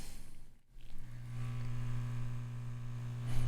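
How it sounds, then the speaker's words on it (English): A steady air conditioner hums in the background, its low drone holding evenly throughout with a short dip near the start and a faint click at the end. "You can probably hear the AC in the background."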